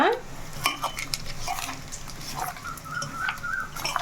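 Chicken pieces stirred with chili powder in a pan, with steady scraping and clinking of a spoon against metal over a soft continuous sizzle, with no voices.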